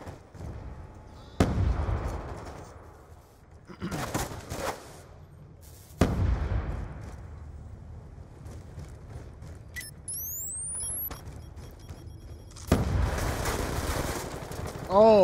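Gunfire in the video game Black Ops 2, several loud separate bursts of shots spaced seconds apart, with quieter game noise and people talking in between.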